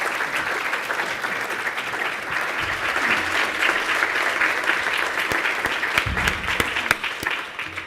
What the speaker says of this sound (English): Let's give a big round of applause to our panel.